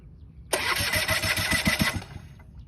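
A small plane's engine cranks over and catches abruptly, then runs loud and near with a pulsing, uneven rev for about a second and a half before cutting back and fading.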